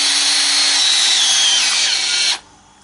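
Festool T12+3 brushless cordless drill with electronic clutch runs at a steady high whine for about two seconds, close and loud, then stops abruptly, leaving a faint tail.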